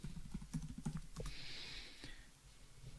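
Quiet typing on a computer keyboard, a handful of soft key clicks in an irregular rhythm, close but faint against a light room hiss.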